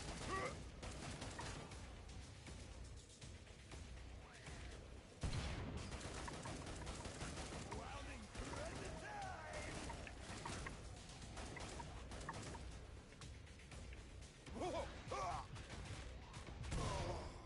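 Grenades exploding amid dense gunfire in Killing Floor 2, loud bursts that punch through a constant wash of shooting and mechanical game noise.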